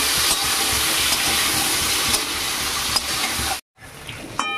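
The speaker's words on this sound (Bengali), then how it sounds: "পটলগুলোকে হাই ফ্লেমে 5-6 মিনিট মতো ভেজে নেবো খুব ভালোভাবে" Pointed gourd (potol) pieces frying in oil over a high flame, giving a steady loud sizzle with crackling that cuts out briefly near the end, then resumes more quietly.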